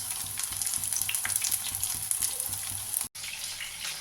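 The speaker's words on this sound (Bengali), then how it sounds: "এক পিঠ ভাজা হয়ে গেছে, আরেক পিঠ ভালো করে ভেজে তুলে নেব।" Lote fish chops frying in a pan of oil, giving a steady, close crackling hiss that runs throughout and cuts out for a split second near the end.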